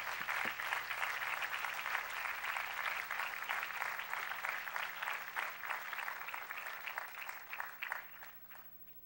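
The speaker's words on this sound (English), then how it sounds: "Can we give them a great round of applause?" Sustained applause from a church congregation, dense clapping that holds steady for several seconds before fading out near the end.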